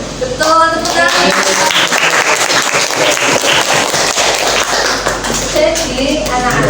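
A classroom of students claps together in a close, loud burst of hand clapping that fills the room, with children's voices chattering at the start and end.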